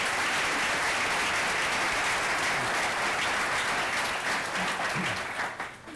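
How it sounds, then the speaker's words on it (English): Sustained, dense audience applause for a panel at a City Club convention, loud and steady throughout, thinning slightly only in the last second. "Let's give our panel a round of applause"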